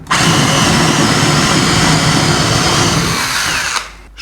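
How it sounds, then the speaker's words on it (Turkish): A power drill drilling a hole runs continuously at full speed, a loud high whine held steady for several seconds before cutting off abruptly. "Şimdi hızlı bir delme işlemi yapayım. Tetiğe direkt basacağım."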